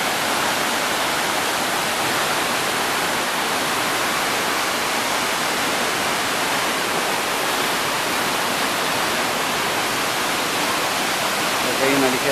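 Roaring rush of the Cascada Azul waterfall at Pedro Vicente Maldonado, a dense, steady broadband wash of falling water that stays loud and unbroken from start to finish.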